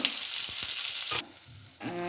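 Chili, garlic and onion sizzle and crackle in hot tempering oil for a potato palya, a loud steady fry with a few stirring knocks, briefly dropping quieter before the hiss swells again.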